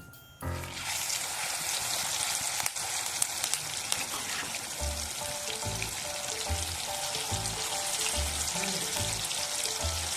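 Tuna pieces frying in hot oil for a fish pickle, with curry leaves in the pan, give a steady, close sizzle and crackle that runs unbroken throughout, with faint stirring knocks underneath.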